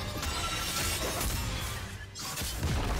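An inhibitor shattering in League of Legends during a Camille versus K'Sante top-lane match, a loud dense crashing burst with a brief dip before the din resumes.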